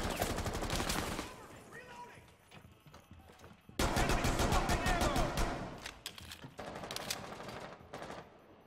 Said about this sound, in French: Il est fun ce fusil à pompe